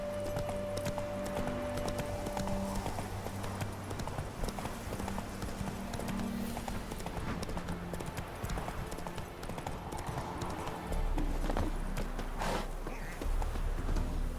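Hooves of Roach, a horse in The Witcher 3 video game, clip-clop in a steady walking rhythm at close range, with ambient game music and a brief low rumble near the end.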